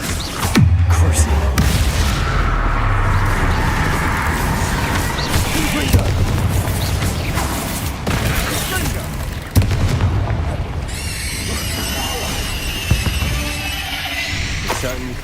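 Spell blasts in the Hogwarts Legacy game, deep booming explosions with rumbling debris and crackling effects, loud and close over a busy game soundtrack, with a voice speaking at times.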